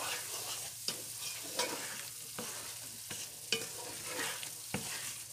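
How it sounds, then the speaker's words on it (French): Ratatouille being stirred in a frying pan, with a steady sizzle under several distinct scraping strokes of the spoon spaced about a second apart, close and moderately loud, no voices. "Vous touillez de temps en temps"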